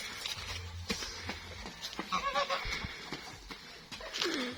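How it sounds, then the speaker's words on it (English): Sheep in a village bleat in short calls amid rustling and outdoor background noise, moderately close. "Those are the sheep."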